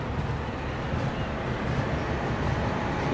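Indian Railways train led by a WAP 7 electric locomotive, heard as a steady, loud rumbling roar of rolling wheels and carriages without distinct beats.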